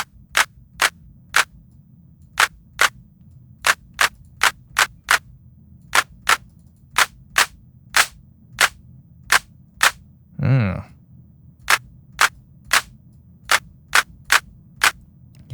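Synthesized hand claps built with a pink-noise layer fire as sharp, dry hits in an uneven repeating pattern, with one longer noisy burst midway and no talking.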